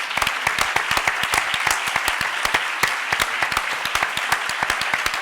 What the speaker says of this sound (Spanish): es el cumpleaños de don Manuel Alcántara y eso pues merece desde luego que le aplaudamos